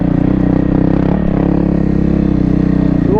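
A 2024 Kawasaki KLX300R dirt bike lugs up a dry climb in first gear, its single-cylinder engine chugging at low revs in a steady, close, loud drone without letup.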